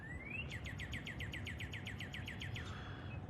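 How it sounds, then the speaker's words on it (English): Small birds chirp in a quick, even series of repeated notes at sunrise along the Des Plaines River, set over a steady low rumble of outdoor background noise. No clear woodpecker drumming stands out. "We'll listen to the woodpeckers and the birds chirping"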